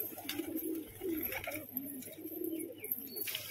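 Pigeons coo in low, rolling bursts throughout, steady and fairly close, with light chirps above; these are tumbler pigeons kept as breeding pairs in a loft.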